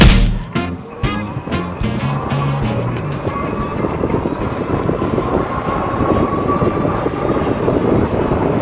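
A VTUVIA SF20 electric fat-tire folding bike runs fast in its top assist mode, with loud, steady wind rush and tire roar close by, after a few knocks at the start.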